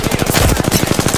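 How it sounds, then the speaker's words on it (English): Rapid automatic gunfire in the battle royale game Apex Legends, a dense burst of about a dozen sharp, loud shots in quick even rhythm with no pauses. "Opening fire on the enemy."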